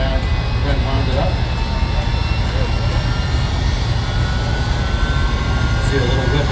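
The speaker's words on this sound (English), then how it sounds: "Now the jet engine is starting to get the turbine wound up." A jet-powered truck's turbine engine spools up at a motorsports park, a loud, steady roaring whine with a broad rumble that holds constant throughout, while voices talk faintly underneath.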